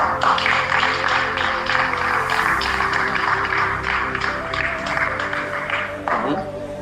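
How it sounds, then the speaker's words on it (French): Church audience applauding for the Lord, a continuous broad patter of clapping throughout, with sustained tones and some voices mixed beneath. "Applaudissons pour le Seigneur."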